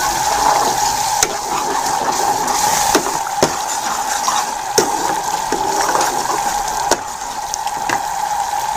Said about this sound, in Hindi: अब हम दही को अच्छी तरह भून लेंगे।